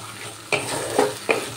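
A paste of melon seeds and cashews sautés in a pan with a low sizzle, broken by three distinct scraping strokes of a spatula about half a second apart.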